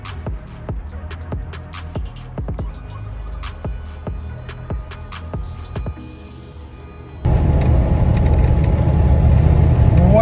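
A Jeep engine fitted with a MagnaFlow xMOD Series muffler exhaust, heard first as a quieter idle under talk and clicks, then jumping to a loud, steady, deep exhaust drone for the last few seconds.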